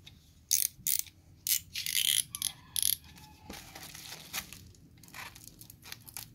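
Opening a padded JLCPCB package containing a PCB order with an ESP8266 dev board: irregular bursts of plastic crinkling, tearing and rustling, close and fairly loud, with no talk.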